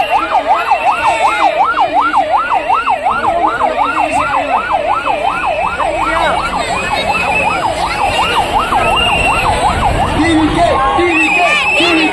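Ambulance siren wailing in a fast, regular up-and-down pattern, loud and close, as the ambulance is caught in a political road show, with crowd noise and traffic underneath.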